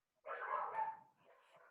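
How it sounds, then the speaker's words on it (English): A dog barks and whines at home during an online meeting, one drawn-out, whimpering bark close to the microphone, then a fainter trailing whine, with no talk over it. "Please excuse my dog. It's making a noise"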